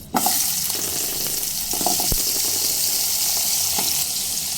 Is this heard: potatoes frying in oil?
yes